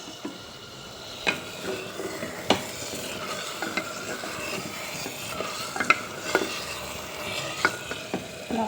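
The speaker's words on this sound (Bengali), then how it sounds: "আলুটা দিয়ে আমি ভালো করে আলুটাকে মিক্স করে নিলাম মশলার সাথে।" Cut potatoes being stirred into well-fried spices in a pan for a chicken dish, steady sizzling with repeated spoon scrapes and knocks against the pan, close and fairly loud, no voices.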